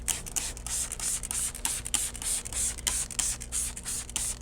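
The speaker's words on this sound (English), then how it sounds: "I'm gonna grab my fabric clean, which is already diluted 20-to-1, and I'm gonna spray directly onto the surface" Repeated bursts of a trigger spray bottle misting diluted fabric cleaner onto a car's carpet, a quick rhythmic series of short hissing pumps close to the listener, with no talking.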